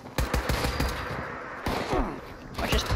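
Gunfire in Fallout 76: a rapid burst of loud, close shots in quick succession, then a pause and a few more sharp reports with ringing tails near the end.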